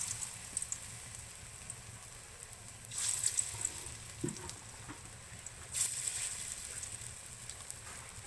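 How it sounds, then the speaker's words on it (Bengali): Taro fritters deep frying in mustard oil give off a soft, steady sizzle that swells into louder bursts twice, with no voices. "এবার কচুর বড়াগুলো ভেজে নেওয়া হবে।"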